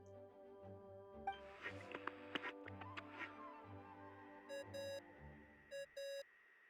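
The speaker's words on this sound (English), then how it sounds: "What's that ringing?" An electronic ringing tone in the video game Genshin Impact, short repeated beeping bursts in the latter half over soft game music and scattered clicks, no voice.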